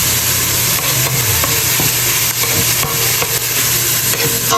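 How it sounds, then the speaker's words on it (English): Italian sausage for dirty rice fries loudly up close with a constant sizzle, while a utensil scrapes and stirs through it in repeated irregular strokes. "I'm going to fry it down just a little bit."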